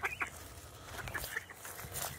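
Ducks on a farm give short, quiet honking quacks in scattered bursts, faint and close, with no talking.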